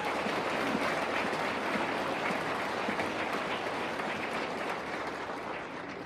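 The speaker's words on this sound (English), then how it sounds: "give yourself a round of applause for producing this outstanding group up here" Audience applause at a Navy Officer Candidate School graduation ceremony: a broad, sustained wash of many hands clapping, loud and even, fading slightly toward the end.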